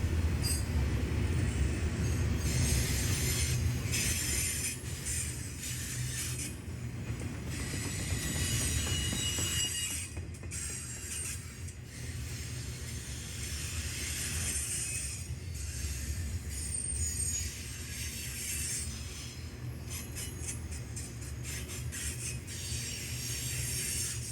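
A freight train of converted gondola cars rolls past on the Big Sandy Subdivision, a loud steady rumble with rhythmic clanking of wheels over rail joints and occasional metallic squeals, no voices.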